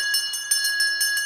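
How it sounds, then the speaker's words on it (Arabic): A high bright bell rings rapidly in repeated strikes, a quick regular trill with a sustained metallic tone underneath. "صوت الجرس؟"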